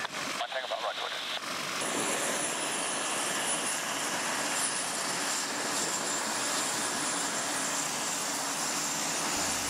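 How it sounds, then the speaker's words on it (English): Aircraft engine drone at an airshow, a plane approaching the runway, heard as a loud sustained roar that swells in and holds steady throughout with no talk over it. "aircraft may, as in this case, be approaching an operator from more than one direction"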